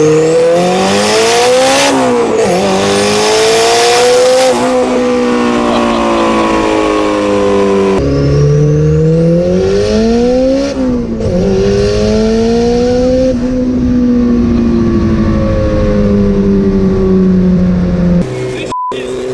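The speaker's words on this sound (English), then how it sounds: "When you start getting the speed in this thing, it starts getting super sketchy." A turbocharged Honda S2000 four-cylinder swapped into a Ford Model A rat rod accelerates hard, its loud, close engine note climbing repeatedly with pitch drops between gears, roaring continuously throughout.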